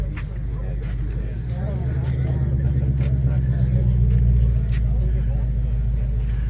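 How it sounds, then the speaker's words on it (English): Ford Mustang engine at a Sunday morning car meet, a deep steady rumble that swells slightly midway, with people chatting nearby over it. "oh, that's a Mustang."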